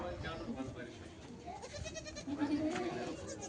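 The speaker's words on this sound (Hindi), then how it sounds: "सारी प्रेग्नेंट बकरियां।" Goats, including pregnant Barbari goats, bleating on a goat farm, several wavering calls over a busy background while someone talks nearby.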